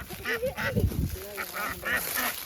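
Several quacks in quick irregular succession, close and fairly loud, over background noise.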